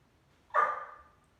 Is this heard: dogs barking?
yes